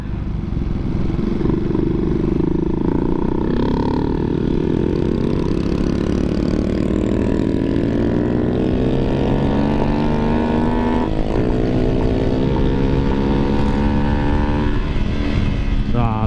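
A Raider J115 Fi motorcycle with a stock head is pushed toward top speed, its engine a loud, sustained drone that climbs steadily in pitch through the gears, heard close and continuous, with faint talk under it.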